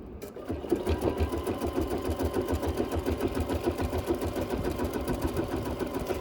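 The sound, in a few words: sewing machine stitching wool pumpkin garland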